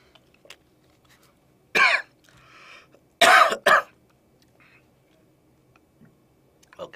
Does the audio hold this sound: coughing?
yes